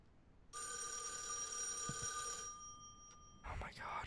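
A telephone rings in a horror game, one long trilling electronic ring for about two seconds, followed by a softer brief chirp and some movement noise, with no talk over it.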